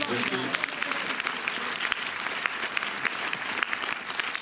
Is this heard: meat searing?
no